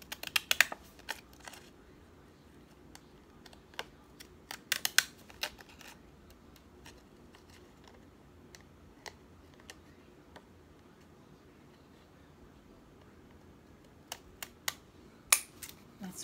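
Scissors cut small squares from paper note cards, producing sparse, faint ticking snips in short bursts separated by long quiet gaps, close to the listener.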